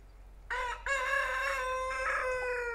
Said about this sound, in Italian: È pieno di galli